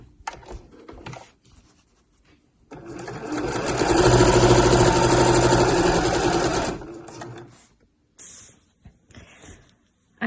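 Sewing machine stitching the base of a slouch bag's lining, one steady loud run of several seconds with quieter handling noises before and after.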